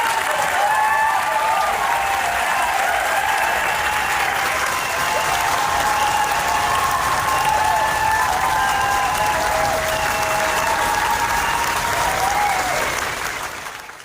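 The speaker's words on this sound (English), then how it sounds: "Midas Touch has a standing ovation for Graham Platner at his rally in Bar Harbor, Maine" Standing ovation for Graham Platner at a political rally in Bar Harbor, Maine: sustained, dense applause from a large crowd with scattered cheers, holding steady for over ten seconds before tapering off.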